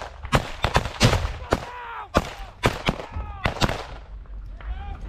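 Heavy gunfire cracks out in sharp, irregular bursts of close shots during a trench assault by Ukraine's International Legion on a Russian trench, with shouting voices mixed in between the shots.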